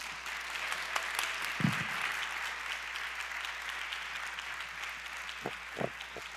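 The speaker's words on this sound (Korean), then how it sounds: "다시 한번 뜨겁게 박수 한번 해주시면 감사하겠습니다" Steady, moderately distant applause from an audience at a church youth lecture, an even wash of clapping with a few louder nearby thumps.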